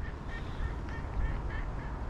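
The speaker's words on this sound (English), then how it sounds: "swim along and quack and carry on all day" A family of ducks by a river gives a few honking, quacking calls spaced across a strong, steady rush of moving water and wind, with no one talking.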